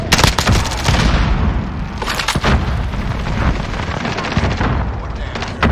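Grenades burst and guns fire in the Call of Duty Warzone game, loud repeated booms and sharp cracks over constant battle noise, with a few strong blasts standing out.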